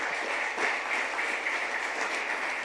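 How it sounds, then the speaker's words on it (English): A crowd's steady, sustained applause for the IT and Tourism minister at a business chamber leaders' event in Goa, even in loudness throughout with no voices on top. "A loud applause for Rohan, sir"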